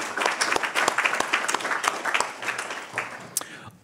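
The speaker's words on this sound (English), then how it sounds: "So please, Linda, give a round of applause for her work." Audience applause at an anniversary research symposium, a dense, sustained clapping from a large room that fills the whole stretch at steady volume before tapering off near the end.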